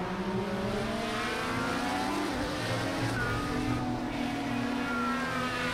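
IndyCar race car in Project Cars 2 screaming at close to 175 mph, a steady high-pitched engine whine with tire and wind roar, continuous and loud with no talking.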